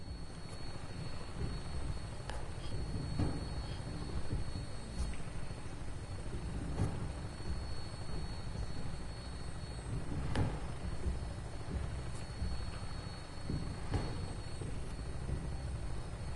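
Aircraft on final approach for landing in the Fallout 4 video game, a quiet, steady low engine drone with faint intermittent clicks and tones, no talk over it.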